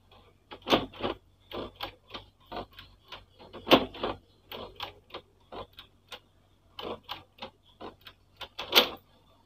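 An HP Deskjet 2135 inkjet printer running its self-cleaning cycle gives off a close series of irregular mechanical clicks and ticks, some in quick pairs, with short pauses between bursts.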